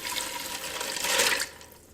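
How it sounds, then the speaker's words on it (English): Water pours steadily from a cup over dry fettuccine noodles in a Ninja Speedi cooker pot, a brief close rushing splash that swells and then tapers off. "we're gonna go in with our 1 3/4 cups of water"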